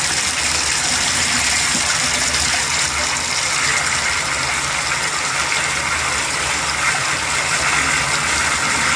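Cold water gushing steadily from a Symmons shower valve after a spindle replacement, a loud continuous broadband rush with no pauses.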